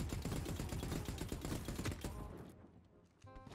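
Rapid bursts of automatic gunfire in the video game The Cycle: Frontier, dense and loud for about two seconds, then tapering off into quieter scattered shots.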